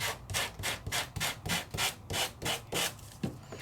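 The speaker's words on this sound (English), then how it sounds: "I could get in there and I could really start sanding it and bringing up all the definition." Rhythmic sanding strokes scrape back and forth across embossed paper, about ten even passes in quick, steady succession, close up.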